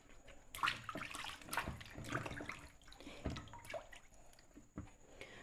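Water splashes and sloshes irregularly, with drips and brief rubbing noises, as goat trotters are scrubbed and rinsed by hand in a basin.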